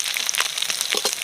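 Five-spice, a bay leaf and dried and green chillies hitting hot oil for a fish head and vegetable curry; a brief, steady close sizzle with light crackles.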